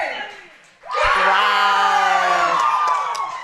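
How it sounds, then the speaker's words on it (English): A hometown crowd at a national powerlifting meet erupts after a successful lift, with a sudden loud roar of cheers and whoops that holds strong for a few seconds before easing slightly. "And the hometown crowd is very pleased."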